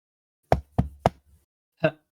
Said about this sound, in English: picking out a sturdy part of it and knocking hard